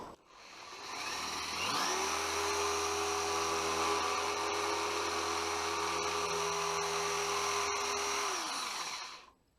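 A power drill bores into a Honda Bros (Hawk GT) motorcycle part, spinning up to a loud, steady high-pitched whine held for several seconds before winding down, close and alone.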